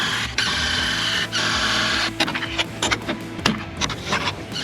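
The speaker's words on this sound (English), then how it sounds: "I'm putting a lot of screws on because that's what I like to do" Screws being driven into a DIY solar-powered pontoon houseboat with a power driver, a steady whirring drone broken by short bursts and clicks, close and fairly loud with no talking.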